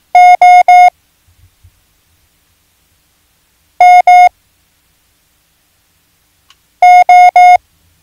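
Clean electronic Morse code beeps: a quick group of three equal tones, a pause, a pair of tones, then another group of three, loud against near silence.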